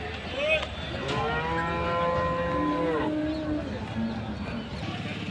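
Khillari bullocks moo at the Ranebennur cattle market: a long, deep, drawn-out bellow with a rising and falling pitch, close and loud, over a steady murmur of crowd noise and distant voices.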